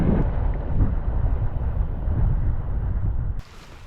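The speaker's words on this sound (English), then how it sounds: "And we're making almost 7 knots under full sail." Sailboat running under full sail with the motor off at nearly 7 knots, heavy wind buffeting and water rush filling the sound loud and steady before dropping off abruptly near the end.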